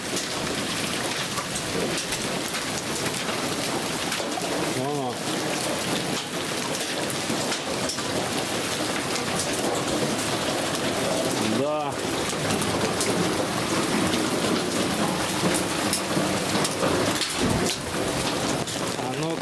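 Large hailstones pound down on a vineyard covered with anti-hail netting in a July storm, a dense, continuous roar of impacts with a rumble of thunder, loud and unbroken throughout.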